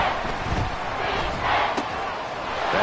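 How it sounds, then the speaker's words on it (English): A football stadium crowd at a 49ers versus Panthers game roars loudly in a sustained wash of cheering and yelling, swelling slightly midway with one sharp accent near the end. "This crowd turning up the decibel level."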